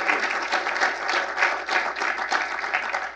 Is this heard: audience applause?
yes